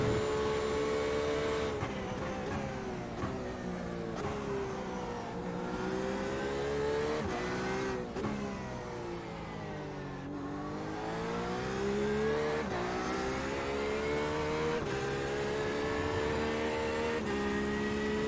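Race car engines roar in the iRacing sim at night, LMP prototypes among them, with one engine whining up and down through gear changes at a loud, steady level and no talking.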